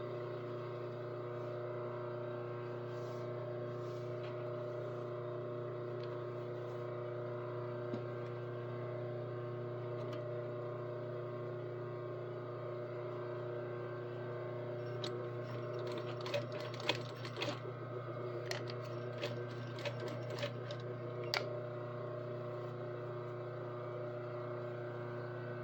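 A sewing machine runs continuously while stitching fabric, a steady mechanical hum with a few sharp clicks and rattles clustering late on.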